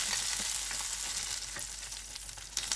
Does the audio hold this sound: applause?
no